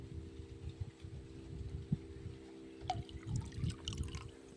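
Water is stirred in a drum to mix in a pesticide, cartap hydrochloride, making faint, soft sloshing and trickling swirls that continue without a break.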